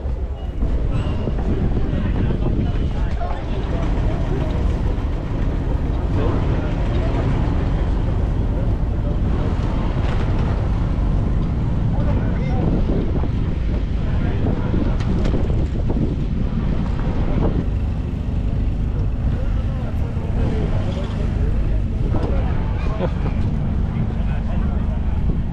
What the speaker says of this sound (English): just starting to get windy now and I have no mic